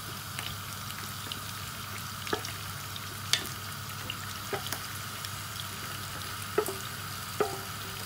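Sliced potatoes fry in oil in a pan for Spanish tortilla de patatas, a steady even sizzle throughout with occasional sharp clicks and pops, no voices.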